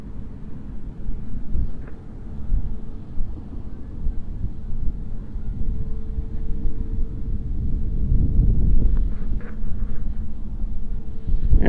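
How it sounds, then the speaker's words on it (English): Steady low wind rumble buffets the microphone throughout on a cool night, a constant blustery roar with no talking. "it's windy tonight and it's kind of cool"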